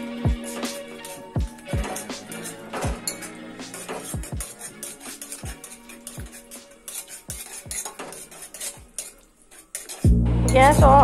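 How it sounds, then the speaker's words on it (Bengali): A spoon stirs yogurt into masala egg curry in a pan with the gas off, giving a rapid series of clinking taps against the metal pan, then a burst of sizzling as heat returns at the end. "গ্যাস অফ অবস্থায় আমি দইটা ভালো করে মিশিয়ে নেব"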